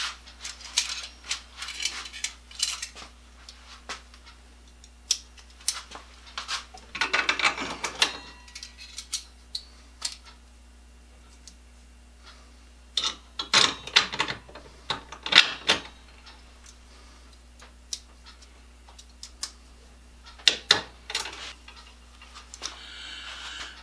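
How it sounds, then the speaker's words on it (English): A 4-inch vise grip welding clamp handled in a workshop, giving scattered metallic clicks, ratcheting snaps and rattles in irregular bursts, close and fairly quiet, with no talking. "And this is a 4-inch welding clamp."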